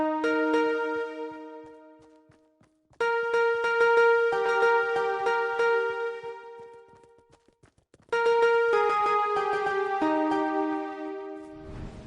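Fortnite music blocks play a short passage of a song as bright, bell-like synth notes. They come in three phrases with a pause after each, each note ringing out clearly and fading, with no voices.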